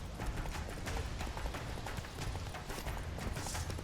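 Roach, the horse in The Witcher 3, gallops with a quick, steady clip-clop of hooves, fairly close and filling the short stretch without a break.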